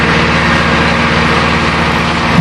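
A tractor engine runs loud and steady at close range, a continuous, even drone with no breaks and no voices.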